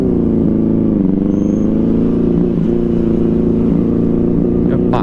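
A Benelli 600i motorcycle, running hot in the sun on a long road ride, holds a loud, close, steady droning hum whose pitch rises and dips slightly throughout.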